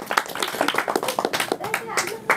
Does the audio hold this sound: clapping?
yes